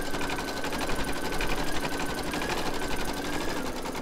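Embroidery machine stitching a free standing lace bookmark on stabilizer with white bobbin thread, a dense fast rhythmic stitching drone, loud and close and continuous throughout, no talking.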